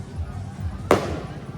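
A single loud firecracker pops once amid the steady rumble of a Carabao Festival street parade crowd in Pulilan, Bulacan.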